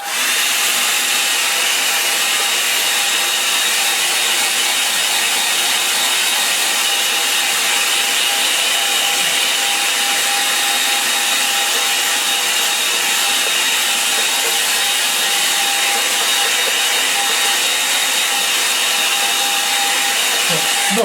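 A hair dryer blows steadily on watercolour paper for an autumn rocky-banks painting, a continuous loud airy whoosh lasting the whole stretch with no talking.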